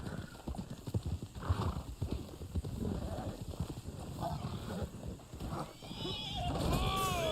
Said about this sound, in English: Damn horse.